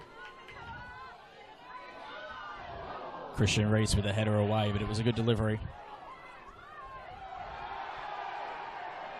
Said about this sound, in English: the crowd really getting behind their team now, hooting and hollering with every decision, every fall, every pass